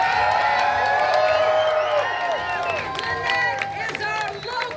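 A crowd at a protest rally cheers, whoops and claps loudly together, sustained and close, with many overlapping voices and scattered applause throughout.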